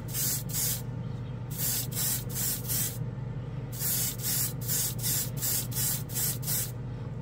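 Grex airbrush at 18 PSI laying a leveling coat of champagne gold metallic paint onto a plastic piece, a series of short hissing spray bursts over a steady compressor hum, close and with no talk.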